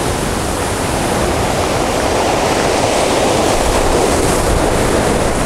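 Storm waves washing over a pebble beach at Simeiz, Crimea, a steady loud roar of surf and churning water with no breaks, close and filling the whole scene.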